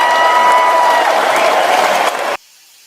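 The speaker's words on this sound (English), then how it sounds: "Let me get that applause for her." Audience applause with some cheering from a crowd at a live dating show, loud and steady for about two seconds before cutting off abruptly into near silence.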